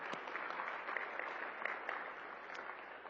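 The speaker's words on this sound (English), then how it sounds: "Let's give a big round of applause." Audience applause at a hospitality and tourism summit, a steady wash of clapping from a crowd sustained for about three seconds at moderate distance, with no talk over it.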